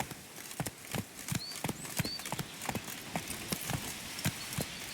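A horse gallops in the Witcher 3 Blood and Wine video game, its hooves clip-clopping in a steady, brisk rhythm of sharp, close hoofbeats.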